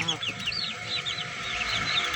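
Chickens on a farm, roosters and hens together, clucking and chattering continuously at close range, with some faint background murmur.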